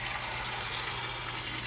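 Water pours steadily into an Instant Pot holding Peruano beans, a continuous close gushing splash with no pauses.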